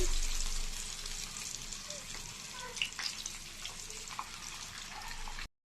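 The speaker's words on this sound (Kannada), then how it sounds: "ಗೋಲ್ಡನ್ ಬ್ರೌನ್ ಕಲರ್ ಬರೋ ತನಕ ನಾವೇನು ಮಾಡ್ಬೇಕ್ರಿ, ಅದನ್ನ ಫ್ರೈ ಮಾಡ್ಕೋಬೇಕು" Paneer manchurian pieces fry in hot oil until golden brown, making a loud, steady hissing sizzle with occasional bubbling pops until it cuts off abruptly.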